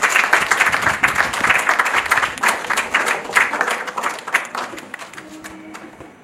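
An audience claps and applauds steadily at a formal religious gathering, a dense patter of hands that holds for several seconds and then thins out and fades at the end.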